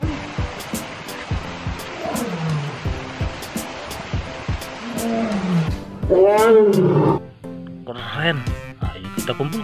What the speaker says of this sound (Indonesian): Ini singa teman-teman.